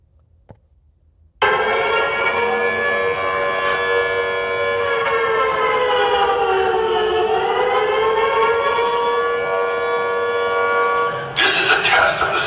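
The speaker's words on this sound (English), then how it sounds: "This is a test of the City of Laguna Beach emergency siren warning system." Laguna Beach emergency warning siren sounding in a test, a loud, sustained wailing tone that dips and rises in pitch for about ten seconds after a brief quiet start, with a faint voice underneath.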